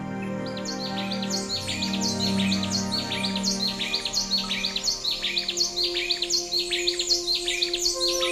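Quetzal calls ring out in a tropical mountain cloud forest, a repeating series of clear chirping notes in a steady rhythm, fairly close and prominent, over a soft background of other birds and insects.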